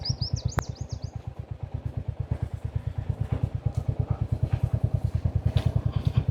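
A tractor engine runs in a harvest field with a fast, even putter of low thumps throughout, and a short bird chirp is heard at the start.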